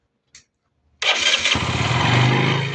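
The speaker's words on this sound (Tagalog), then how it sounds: "So, ngayon, start nyo yung motor." A motorcycle engine fitted with a 28mm carburetor starts up after a brief click, catching quickly and settling into a loud, steady high idle close by.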